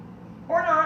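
A voice gives a short, rising meow-like sound in imitation of a cat, brief and close over a soft background.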